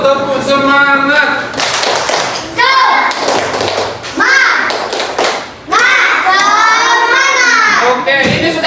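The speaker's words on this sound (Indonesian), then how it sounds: "tepuk semangat lagi ayo" A group claps hands together in a rhythmic encouragement cheer during a classroom lesson, sharp patterned claps mixed with loud children's voices and chanting close by.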